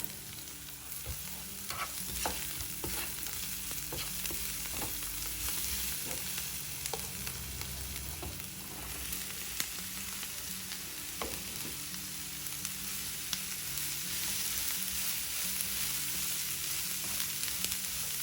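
Cabbage frying in a pan with chilli powder and turmeric, a continuous loud sizzle and crackle with occasional stirring clatter from a utensil, close by and without speech.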